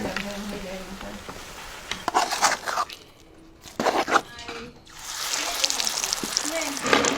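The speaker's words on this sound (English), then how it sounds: "now she's frying them into little shapes" Bhajia batter of onion, chili and coriander frying in hot oil at an outdoor spot in Dire Dawa or Harar, a steady sizzle with crackling bursts that dips briefly before returning, with voices talking over it.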